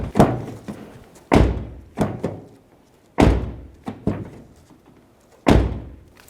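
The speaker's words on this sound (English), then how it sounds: "Close the door." The rear door of a 2007-2013 Acura MDX being shut repeatedly during repair work, producing a series of solid close thunks and slams with lighter taps between them at an irregular rhythm.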